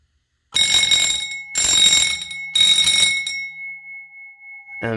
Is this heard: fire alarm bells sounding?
yes